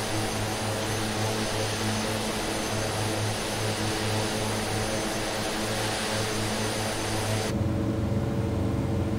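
A propeller plane's engine in Microsoft Flight Simulator drones as a loud, constant buzzing hum with a steady airy rush, its tone shifting abruptly near the end as the view or power changes.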